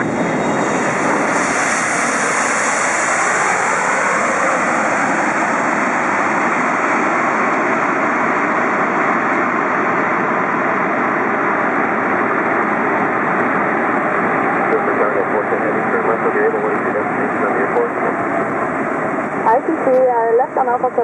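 A heavy AeroLogic Boeing 777 freighter lands at Los Angeles, its jet engines making a loud, steady roar throughout with a whine drifting in pitch, and radio-like voices talking over it.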